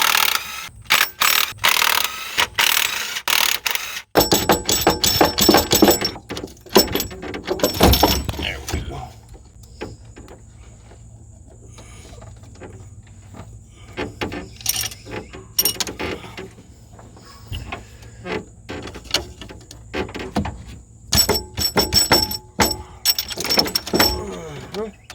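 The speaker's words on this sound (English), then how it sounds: "Alright, we're gonna start popping these head bolts now." Head bolts being broken loose and removed from the engine of a 1994 Chevy Z71 pickup, heard as repeated close ratcheting and metallic clicks in bursts, with a steady mechanical hum underneath and some talk.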